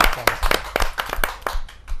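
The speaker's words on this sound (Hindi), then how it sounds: "जोरदार ताली के साथ।" Loud, steady applause from a kavi sammelan audience welcoming a poet to the stage, many hands clapping close together in a dense, continuous wash without speech.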